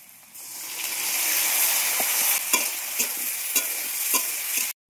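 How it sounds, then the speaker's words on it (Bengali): Bitter gourd sizzles in hot oil alongside fried onions, a dense close hiss that builds after a quiet start, with several sharp stirring scrapes and clicks; no voices. "এখন উচ্ছেগুলো দিয়ে দেব।"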